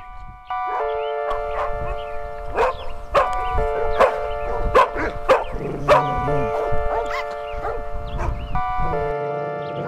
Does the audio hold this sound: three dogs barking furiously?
yes